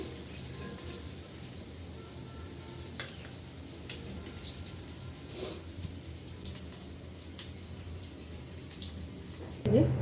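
Ash gourd frying in a covered pan, a steady low sizzle running throughout with a few soft clinks, and a brief louder clatter at the end.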